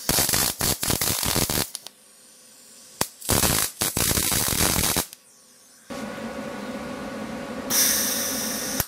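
A welder tacks a folding trailer in a series of loud crackling buzzing bursts, several short tacks followed by longer sustained arcs with brief quiet gaps between them.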